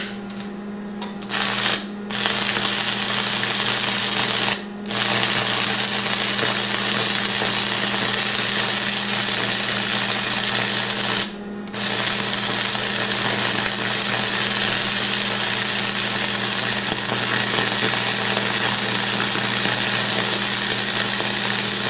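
An Electra AAA carbon rod air-arc gouges metal, giving a loud, harsh, continuous crackling roar up close. It breaks off in a few brief pauses as the arc stops and restarts.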